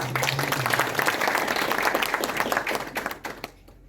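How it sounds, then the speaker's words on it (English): Audience applause at a FIFA school app launch event in Kenya, a dense steady clapping that fills the space loudly for several seconds before quickly dying away at the end. "A clap for Antonio."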